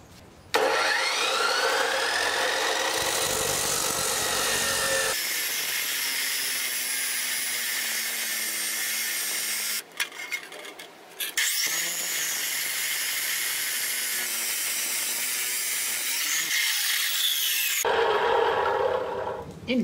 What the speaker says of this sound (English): That cut through 6 inches straight of quarter inch of hot rolled steel.